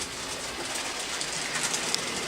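A model railroad locomotive, a Bachmann with a TCS decoder, runs along a layout with a continuous soft hiss and faint rhythmic clicking of wheels on track, steady and close, without speech.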